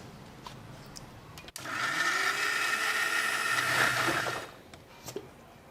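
A kitchen mixer grinder whirs loudly for about three seconds while grinding curd masala for an aloo matar gravy, starting abruptly after a click and stopping sharply, with quieter room sounds around it.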